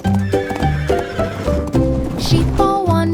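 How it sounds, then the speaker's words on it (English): Horse neighing in repeated whinnies over the steady clip-clop of hooves trotting, loud and close, with a musical backing underneath. "horses trotted slowly past"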